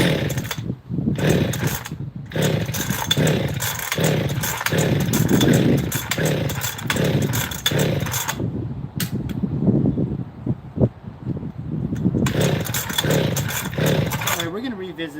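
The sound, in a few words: chainsaw starting and running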